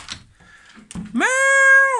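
A single long, clear meow from a nearby cat, rising and then holding steady, preceded by a few faint rustles.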